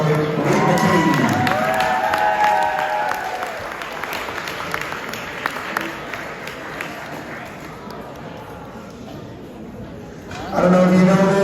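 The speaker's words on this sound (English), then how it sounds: "Give it another applause for Coach" A sports banquet audience claps for a coach. Dense applause opens loud, thins and tapers through the middle, then a fresh burst of clapping rises near the end, with voices mixed in.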